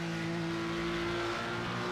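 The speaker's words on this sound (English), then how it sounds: "Just listen to that engine." A flat-six race car engine in a sim racing game's 24-hour endurance event at the Zolder circuit drones steadily at high revs, a constant buzzing tone with no one speaking.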